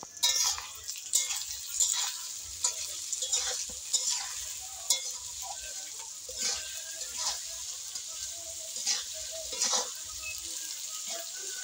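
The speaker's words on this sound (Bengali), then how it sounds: "এগুলো সব একসঙ্গে ভালো করে ভেজে নেওয়া হবে।" Ingredients for a Bengali koi fish dish frying together in a pan, a steady close sizzle broken by frequent scraping and clinking stirs of a spatula against the pan, with no talk.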